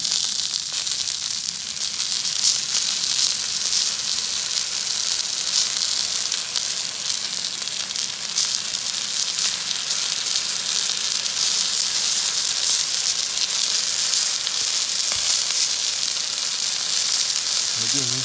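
Teriyaki glaze sizzling on salmon on a hot Blackstone griddle, a loud, dense, hissing sizzle that holds steady throughout with faint clatter near the end.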